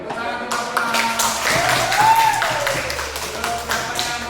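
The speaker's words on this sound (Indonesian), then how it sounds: "Tepuk tangan teman-teman." Classmates in a classroom clapping their hands, a burst of quick, overlapping applause that swells and then thins out over a few seconds, with a voice briefly heard amid it.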